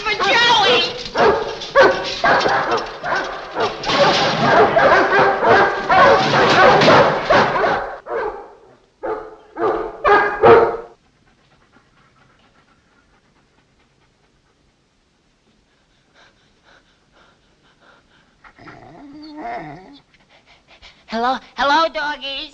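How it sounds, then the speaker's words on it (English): Dogs panting and barking close by in a 1950s comedy film scene, loud bursts for the first ten seconds, then near silence before a few more yips and pants near the end. "Hello, doggies."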